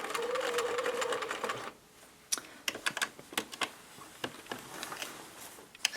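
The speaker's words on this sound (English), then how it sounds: "So I'm going to continue stitching like this all the way around the hands" A sewing machine stitches straight-line quilting on an advent quilt, first in a fast continuous whirring run, then stopping to a scatter of quiet clicks and ticks as the quilt is shifted; close and fairly soft.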